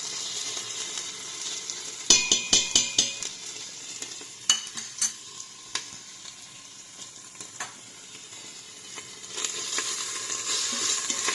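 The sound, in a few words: ginger garlic paste added to browned onions, frying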